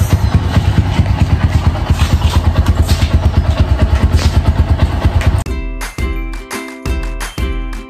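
A motorcycle ride with the engine pulsing in a steady, rapid rhythm close by for several seconds, then the sound abruptly shifts to intermittent rumbling thumps.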